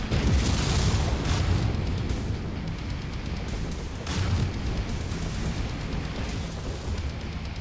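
Heavy booming explosion as a target is destroyed in the mech combat game Mechwarrior 5: Mercenaries, a loud dense rumble with a second burst about four seconds in, no talking.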